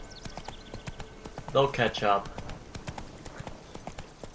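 Horse hooves clip-clop in The Witcher 3: Wild Hunt, a steady trotting rhythm that is loudest around the middle, with a voice talking over it.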